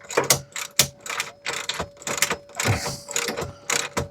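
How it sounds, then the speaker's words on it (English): A socket ratchet turns the bolts of a CTA swivel base under a single passenger seat in a Sprinter campervan, with a spanner holding the top, giving repeated quick clicking bursts at close range with brief pauses between strokes. "spanner on top and ratchet underneath."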